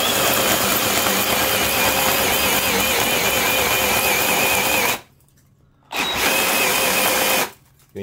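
DeWalt 36V Nano Lithium 1/2-inch hammer drill driving a heavy bit, a loud steady motor whine that cuts off abruptly twice, then restarts after a short silence.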